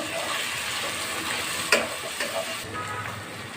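Whole spices, ginger paste and bay leaves frying in oil for chicken dum biryani, heard as a steady moderate sizzle with brief scraping stir sounds and a clink partway through.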